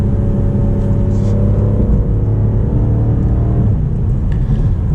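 BMW M5 Competition engine droning steadily at close range with a low rumble, a slight rise and fall in pitch as the revs shift during a gear change, continuous throughout with no talk.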